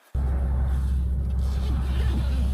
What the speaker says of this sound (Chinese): 外面这个货车好吵啊！